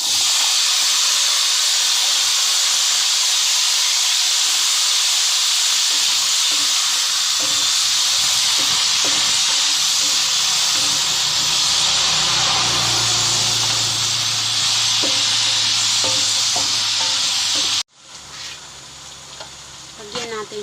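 Sitaw string beans hit a hot frying pan for a vegetable sauté with pancit canton, a loud continuous sizzle and hiss with occasional stirring clatter, cut off sharply near the end as quieter pan noise continues.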